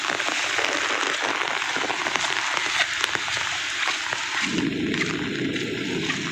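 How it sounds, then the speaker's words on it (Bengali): Heavy rain mixed with hail and wind in a Kalbaishakhi storm makes a dense, steady hiss of drops pounding nearby surfaces. A deeper rumble swells near the end, and no one speaks. "শিলা বৃষ্টি যাকে বলা হয় প্রচুর শিলা পড়ে আছে"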